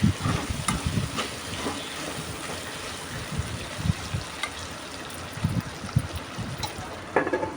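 Taro root curry being stirred in a pan, giving irregular close scraping and stirring noises over a soft simmering, watery sizzle, with no talking.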